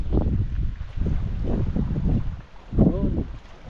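Strong wind rushes and buffets the microphone during a fishing outing on the water, a low, uneven roar with gusts and a brief human sound near the end.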